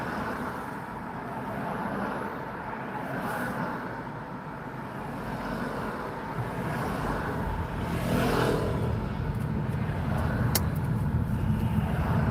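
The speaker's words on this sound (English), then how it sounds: "Now we get stuck in traffic." Road traffic in a slow-moving jam, a steady low rumble of car and truck engines with a few passing surges, growing louder toward the end, with no talking.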